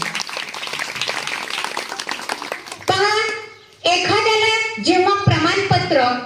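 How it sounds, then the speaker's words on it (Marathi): A group claps steadily for a few seconds, then children's voices chant loudly in unison, followed by more sung or chanted phrases. "आपण जोरात तीन टाळ्या वाजून सन्मान करूया"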